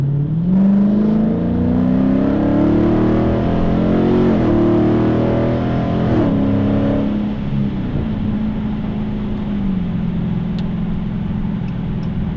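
A 2021 Dodge Challenger Scat Pack T/A engine accelerates hard for about seven seconds, its loud rising roar climbing through gears before settling into a steadier lower drone, close and continuous with no talking.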